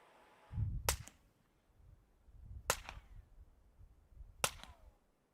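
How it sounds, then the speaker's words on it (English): Three sharp cracks from a Colt .32 pistol fitted with a wet sound suppressor, evenly spaced about two seconds apart, each a crisp snap with a brief thud and short decay, with nothing heard between shots. "This is the Colt 32 with a wet suppressor."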